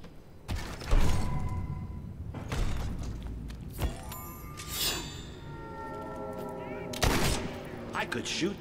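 Gunfire in the video game Fable 3: repeated loud shots and bursts with sharp mechanical cracks and ringing tails, scattered across the stretch with short gaps between volleys.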